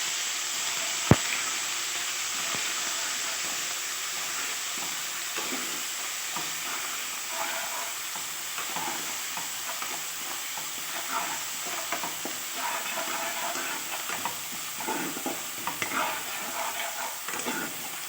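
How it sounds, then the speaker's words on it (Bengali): Onion paste frying in oil in a wok for a Bengali egg curry, a steady close sizzle with frequent spoon scrapes and taps as it is stirred, one sharp clank early on, no talking. "প্রথমে পেঁয়াজ বাটাটা দিয়ে দিলাম, একটু নেড়ে চেড়ে নিই।"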